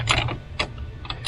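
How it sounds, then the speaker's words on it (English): Two large wrenches tightening the jack bolts on a truck camper, giving a few short metallic ratcheting clicks and clanks in quick bursts, close by with no talk. "So right now I'm just using 2 big wrenches."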